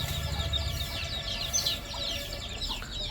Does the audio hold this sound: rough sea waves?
no